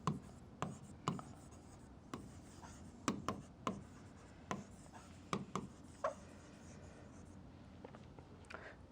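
Marker or pen tapping and scratching on a board while a geometry solution is written out, a series of distinct clicks and strokes spaced irregularly, close and moderately quiet.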